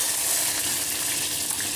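Chopped onion and curry leaves fry in hot oil for a South Indian pulusu, giving a loud, dense, continuous sizzle close by, alone without speech.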